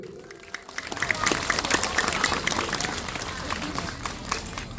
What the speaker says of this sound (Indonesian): Tepuk tangan untuk ibu-ibu.